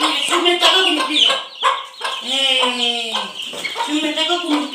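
A chicken clucks repeatedly in short bursts close by, mixed with a voice speaking over it.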